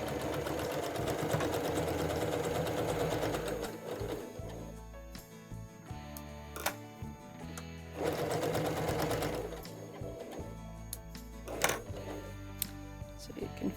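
A sewing machine stitches the fabric pieces of a log cabin mug rug in steady, loud bursts of rapid needle chatter, pausing briefly between runs before starting up again.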